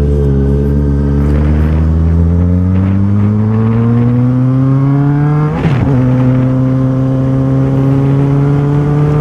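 Yamaha XJ6 motorcycle engine revving under a bridge, a loud close sustained roar climbing steadily in pitch with a brief blip midway, echoing and unbroken with no talking.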